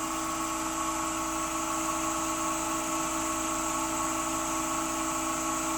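A Nova Galaxi DVR 1644 wood lathe spins steadily at 1616 RPM, giving a continuous, loud mechanical whine and hum with a droning resonance that holds constant throughout, no voices over it.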